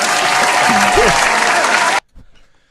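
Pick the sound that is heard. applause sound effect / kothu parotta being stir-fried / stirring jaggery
applause sound effect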